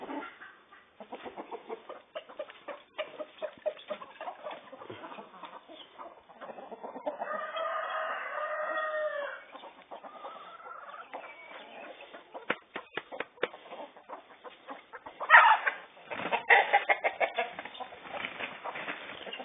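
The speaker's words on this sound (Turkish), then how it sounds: "Tavuklar dövüşüyor." Chickens fighting cluck and squawk in bursts over a scratchy background, with a louder agitated squawk near the end, moderately close.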